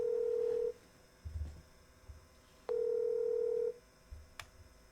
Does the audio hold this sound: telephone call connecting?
yes